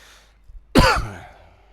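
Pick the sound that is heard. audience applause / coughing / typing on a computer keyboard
coughing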